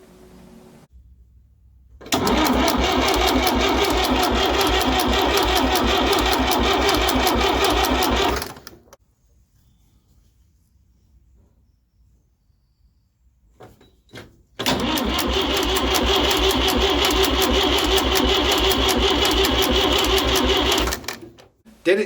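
Fordson Power Major tractor diesel engine with a fuel injection pump fault, fired up twice: about six seconds of loud, steady knocking running, a stretch of near silence, then another seven-second run before cutting out.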